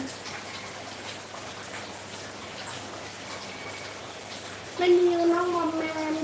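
Heavy rain falls in Lampang, a soft steady patter running throughout while someone talks over it, her voice growing louder near the end.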